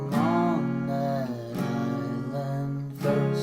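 Acoustic guitar strums the chorus of a song, sustained chords repeating in a steady pattern with fresh downstrokes roughly every one and a half seconds, close and clear with no voice.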